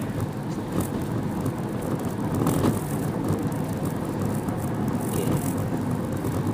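A DFSK Glory i-Auto SUV driving through a tricky underpass, heard from inside the cabin as a steady broadband road and tyre rumble with faint thumps from the suspension, no voices.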